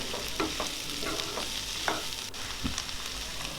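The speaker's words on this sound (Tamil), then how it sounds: "குடை மிளகாயை சேர்த்துட்டு நல்லா வதக்கிக்கலாம்." Capsicum sautés in a pan for chutney, a constant near sizzle broken by several quick spatula scrapes and stirs, with no talking.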